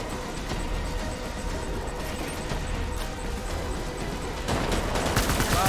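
Sustained gunfire from soldiers opening fire in the video game Death Stranding, a dense continuous fusillade with rapid crackling bursts that swells louder near the end.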